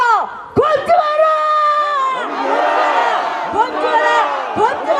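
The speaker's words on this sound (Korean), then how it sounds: "큰 목소리로 한 목소리로 구호 외치겠습니다" A large crowd at a political rally shouts a slogan in unison, loud and reverberant, rising and falling with overlapping voices in repeated chant bursts.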